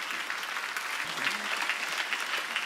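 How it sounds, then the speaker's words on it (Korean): A church congregation claps together during a sermon, a brief, dense burst of many hands at moderate volume, steady throughout. "율법 아래 있지 않다고 깨달은 사람만 박수"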